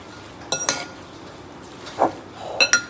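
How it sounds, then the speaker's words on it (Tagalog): A few light clinks of utensils against a bowl come while carrot salad is tossed with dressing, scattered and brief over a quiet background with no speech. "Haluin pong mabuti para mai-mix po yung dressing niya."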